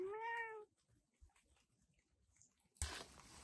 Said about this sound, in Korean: 제 2구역 담당 고양이가 추루를 기다리네요.